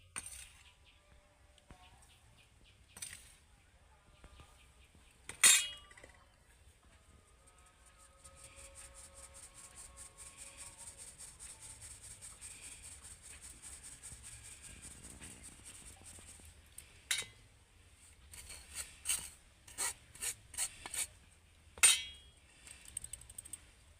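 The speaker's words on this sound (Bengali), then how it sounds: "এগুলো ভাঙার জন্য এগুলোকে আমি এখন চালনির সাহায্যে চেলে নেবো" Cooled sugar-flour mixture for homemade son papdi being pushed through a sieve, a soft steady scraping hiss in the middle stretch, with scattered sharp metallic taps and knocks before and after, close and quiet.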